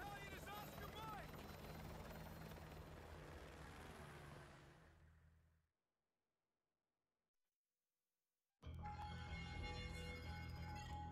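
Helicopter from the video game Modern Warfare 2 Remastered, a loud close rotor thump with engine whine that fades into silence, then returns abruptly at full volume near the end.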